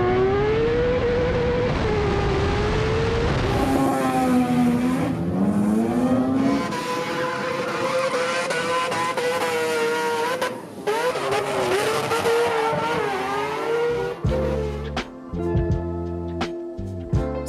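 A drift car powers down a strip with a wailing, rising and falling engine note, loud and close, shifting pitch repeatedly before sharp crackling bursts and choppy revs near the end.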